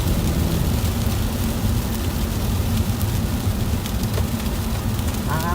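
Sleet pelting a car while driving through a heavy snow and ice storm in Pennsylvania, a dense, constant patter of pellets over low road and cabin rumble, loud and close.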